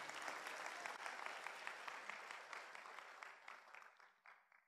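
A crowd claps in sustained applause that gradually thins out and fades toward the end.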